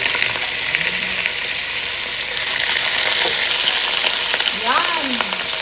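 Vegetables for pakbet frying in a pan give off a constant loud sizzle, with light stirring scrapes and clinks throughout.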